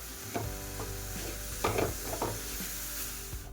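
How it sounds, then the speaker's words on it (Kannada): A spoon stirs mango kadubu batter with cardamom powder mixed in, giving soft scraping and rubbing strokes in a close, steady rhythm with a few louder clinks and no talk. "ಏಲಕ್ಕಿ ಪೌಡರ್ ಹಾಕ್ತಾಯಿದ್ದೀನಿ. ಚೆನ್ನಾಗಿ ಮಿಕ್ಸ್ ಮಾಡ್ಕೋಬೇಕು."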